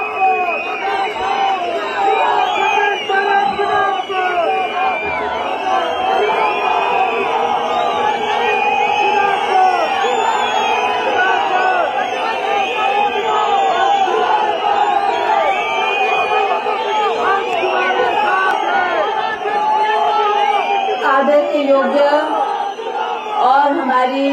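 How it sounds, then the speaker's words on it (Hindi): A large crowd at a Congress party rally in Shimla, Himachal Pradesh, claps and cheers in one loud, continuous roar of applause, shouts and whoops that fills the whole stretch without pause. "जोरदार तालियों से स्वागत करें"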